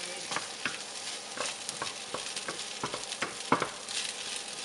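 Rice stirred in a frying pan with chorizo and peppers, a close, steady sizzle broken by repeated scraping strokes at an irregular rhythm, with no talk.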